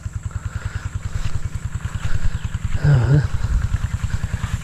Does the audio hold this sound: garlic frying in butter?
no